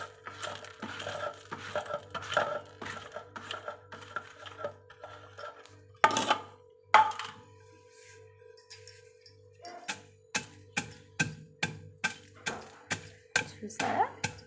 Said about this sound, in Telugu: పప్పులు రోట్లో వేస్తున్నాను. వేసి దంచాలన్నమాట